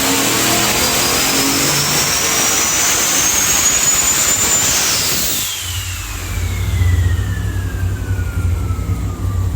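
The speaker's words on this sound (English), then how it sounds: "It's a Borowski racing engine." A loud V8 Borowski racing engine in a six-speed GMC Sierra drift truck revs high and holds, then drops to a deep rumbling idle before climbing again, with a whining turbo tone sweeping down.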